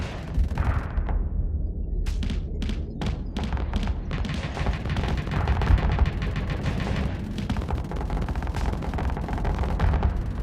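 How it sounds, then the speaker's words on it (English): Rapid bursts of Vulcan cannon fire from a spaceship in the Starsector space combat game, a loud dense chatter of shots with thumping impacts running steadily throughout, no voices. "My Vulcan cannons are just tearing apart their missiles"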